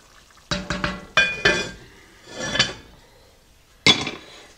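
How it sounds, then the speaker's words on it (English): Metal lid set onto a skillet of one-pot French onion ground beef and noodles, with a few close clanks and knocks, a soft scrape, then a final sharp clatter. "And then what we're going to do is place a lid on here"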